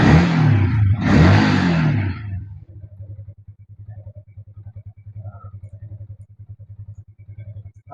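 A vehicle engine idles after someone talks at the start, settling into a low, steady, pulsing chug that stays close and even for the rest of the clip.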